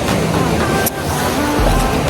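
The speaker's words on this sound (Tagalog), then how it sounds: "Ayan yung dagat." Sea waves at a beach in the Philippines on a hot day form a loud, continuous roar of surf washing in, with a brief dip before the rush builds again.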